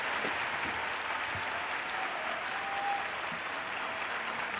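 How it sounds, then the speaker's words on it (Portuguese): A large crowd in an open square applauds the Pope, a steady, fairly distant wash of clapping with no talk over it. "a praça que responde com um aplauso."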